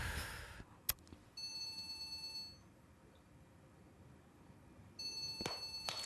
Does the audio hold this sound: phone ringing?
yes